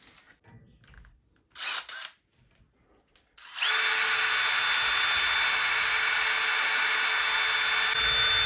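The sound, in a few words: power drill drilling hole in rabbit cage leg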